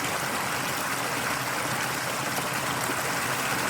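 Mountain stream flowing over and through stones, heard up close as a steady, dense rushing and gurgling of water that continues without a break.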